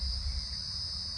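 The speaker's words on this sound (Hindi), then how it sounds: "यहाँ पे देखो कितने झींगुर बोल रहे हैं" Crickets chirp near a bamboo tree in a continuous high-pitched drone, moderately quiet and steady, with a low rumble underneath and no voices.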